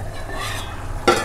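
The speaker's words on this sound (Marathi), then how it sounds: "चांगला उकळ आला आहे बघा." A pot of fresh cashew-nut curry bubbling on the stove, a steady soft simmering hiss with a brief metallic clink of a utensil near the end.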